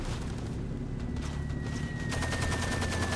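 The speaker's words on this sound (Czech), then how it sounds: "Přestože ani nevím, odkud do mě střílí." Sustained gunfire in Far Cry 2, with a steady dense roar of shots and rumble throughout, with no speech.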